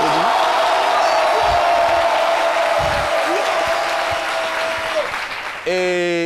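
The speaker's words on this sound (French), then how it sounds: "On va donc l'applaudir." Studio audience applause for a humour radio show award, a dense wash of clapping heard under a voice, with a few cheers and a short burst of music at the end.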